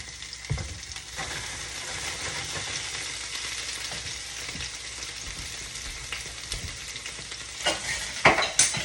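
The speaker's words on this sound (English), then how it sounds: "So I'm cooking 2 pans of meat" Meat sizzles in olive oil across two pans, a steady broadband frying hiss with occasional clinks and scrapes of stirring utensils, close up and without talk.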